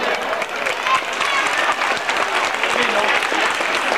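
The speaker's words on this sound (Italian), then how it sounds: "Un altro applauso." Loud, dense applause from the audience at a village folk festival in Desulo, Sardinia, with a crowd clapping continuously throughout, close and full.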